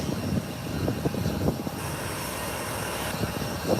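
An Embraer 135 jet of Volvo Airlines arrives from the Dominican Republic, a continuous engine drone carrying a few brief louder swells, alone without speech.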